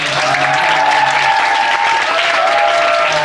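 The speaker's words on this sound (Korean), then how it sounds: "큰 박수로 감사합니다" Sustained loud applause from a large crowd at a high school chapel service, a steady wash of clapping that fills the whole clip without a break.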